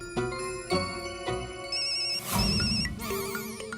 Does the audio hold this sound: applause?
no